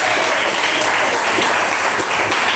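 A church congregation claps together in a dense, steady burst of applause filling the room, loud and continuous from start to finish.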